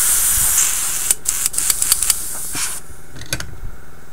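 A close airbrush hisses steadily while emptying its leftover paint, then sputters in short bursts as it runs dry, with a few clicks and taps as the spray trails off.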